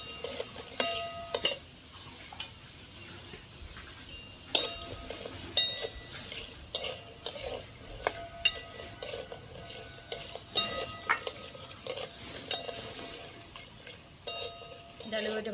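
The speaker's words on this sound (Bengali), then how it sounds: "এবার ডালে বড়িটা ভেজে নিচ্ছি। ডালে বড়িটা কিন্তু বাড়িতে করা আমার।" Homemade urad dal bori fried in a pan: regular metallic clinks and scrapes from stirring ring out in a steady rhythm over a faint background of frying.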